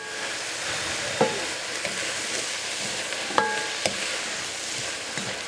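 Sliced leeks sauté in a pot with salt and black pepper, sizzling steadily up close while a utensil stirs them, adding a few sharp scrapes and clinks.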